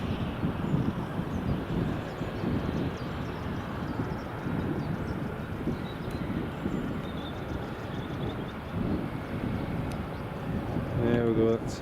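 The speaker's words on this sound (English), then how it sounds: "that's Turkish just taxiing along" A Turkish Airlines plane taxis at Edinburgh Airport early in the morning, producing a steady, distant jet rumble that is mixed with continuous wind noise on the microphone.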